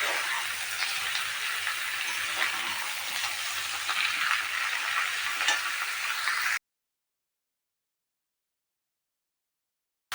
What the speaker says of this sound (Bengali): এবার এঁচোড়টা আর আলুটা আমি দিয়ে দিলাম, দিয়ে ভালো করে ভেজে নিতে হবে